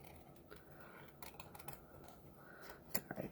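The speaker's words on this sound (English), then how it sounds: "I'm just going to snip that off to make it easier to cut" Scissors snipping through stamped paper while trimming a die-cut cactus image at a craft table, a few quiet, scattered cuts, the crisper ones near the end.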